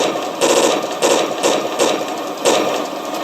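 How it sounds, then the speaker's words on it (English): RC tank electronics playing a machine gun sound effect: rapid rattling bursts in a regular pulsing rhythm over a buzzing mechanical bed, close and fairly loud. "New machine guns."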